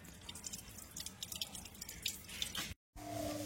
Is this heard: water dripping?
yes